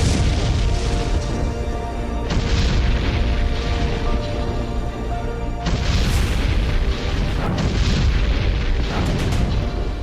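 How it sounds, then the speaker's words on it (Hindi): Heavy booms from a missile attack on a Russian training centre and weapons depot in Stary Krym, Crimea, roll out in a dense, continuous barrage of loud, overlapping blasts with no pause. "मिसाइल अटैक के चलते स्टारी क्रिम में भीषण ब्लास्ट हुआ।"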